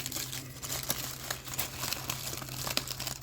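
Plastic packaging for model kit parts of a Hachette Batmobile Tumbler is crinkled and pulled open up close, giving quiet, continuous rustling with small sharp crackles scattered throughout.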